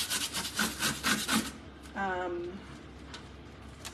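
Short rhythmic scrubbing strokes with cheap dishwashing liquid rub back and forth up close, followed by a brief spoken voice and then quiet.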